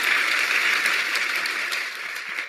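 An audience claps in a continuous, dense burst of applause that stays fairly loud and steady before tapering slightly at the end, with no voices over it.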